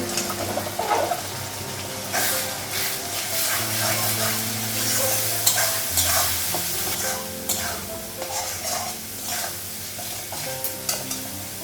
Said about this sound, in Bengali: মশলাটা একটু ভেজে নেব